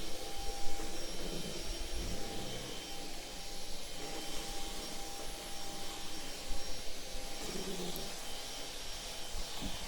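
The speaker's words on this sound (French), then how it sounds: "comme vous pouvez voir, l'aspirateur fonctionne exactement comme avec le système cyclonique, mais avec des sacs" A Roborock H7 vacuum cleaner, fitted with a bag instead of its cyclonic bin, runs over a floor scattered with salt and dried herbs, giving a steady, loud broadband whoosh with a thin high whine that continues unbroken throughout.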